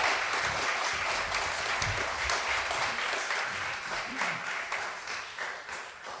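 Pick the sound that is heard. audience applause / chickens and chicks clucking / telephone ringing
audience applause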